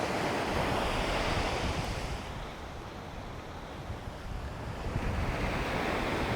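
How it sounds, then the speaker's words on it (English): Ocean surf washes continuously onto a sandy beach on the Central Florida coast, with strong wind buffeting the microphone. The wash swells and eases slightly, and no one speaks. "we are here on the ocean. We're on the sand."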